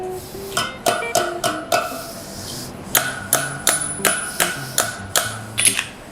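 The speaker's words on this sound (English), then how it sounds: "the hammer and the anvil is one of the earliest pieces of, you know, engineering equipment, really" A blacksmith's hammer rings on steel against an anvil in quick rhythmic strikes, about fifteen sharp metallic clangs in two bursts with a short pause between, close and loud.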